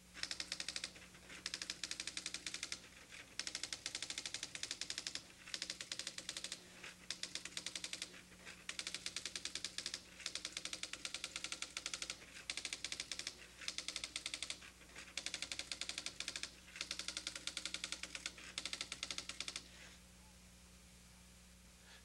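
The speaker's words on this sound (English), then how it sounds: "Now here's that same listing printed out on a letter quality printer." A letter quality printer attached to a TRS-80 Model 4 prints out a program listing, a rapid rattling clatter in repeated bursts with short pauses between lines, then stopping into quiet hum.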